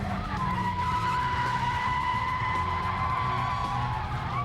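Renault Mégane R26 sliding under a pulled handbrake on a closed road or circuit: a sustained, loud tire squeal with steady high whining tones and engine roar underneath, unbroken for the whole stretch.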